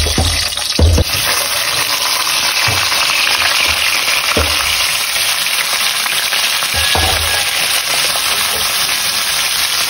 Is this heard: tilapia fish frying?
yes